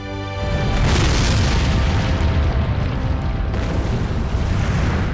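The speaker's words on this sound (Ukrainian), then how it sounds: "Подекуди магма пробивається крізь земну поверхню і вибухає вулканом" A volcano erupting explosively: a deep, roaring boom that swells after a brief moment and rumbles on loudly and continuously.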